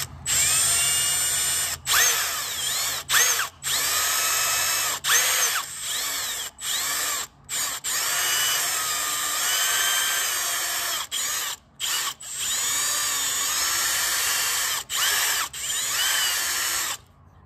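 A power drill runs a reverse (left-hand) bit into a snapped timing cover bolt, whirring steadily and loudly in long bursts broken by short pauses as the trigger is released.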